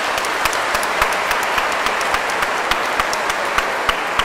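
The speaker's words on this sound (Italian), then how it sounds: "Quindi un applauso grande per Sor Maria e tutta la comunità." Steady applause with crisp individual claps fills a perpetual profession ceremony, honoring a nun and her religious community; sustained, moderately loud and even for the whole stretch, with no voices on top.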